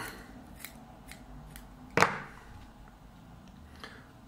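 Scissors snip through bucktail hair while tying a muskie and pike fly, one sharp close cut standing out against a quiet background with faint light taps.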